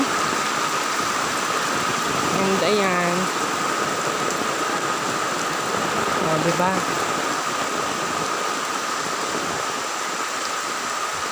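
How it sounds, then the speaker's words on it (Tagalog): Heavy rain pouring outdoors while someone walks, a steady dense hiss running evenly throughout, with someone speaking briefly a couple of times over it. "napakalakas na talaga ng ulan"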